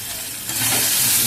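Chili hits hot oil in a pan for a rohu fish curry with mixed vegetables, and the close, loud sizzle swells abruptly into a steady hiss of frying.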